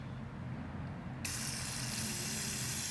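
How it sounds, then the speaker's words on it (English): After a quiet moment, a sudden continuous hiss of cleaner sprayed onto RC bearings starts and holds steadily to the end, close and fairly loud. "you can quickly spray, you know, all the bearings"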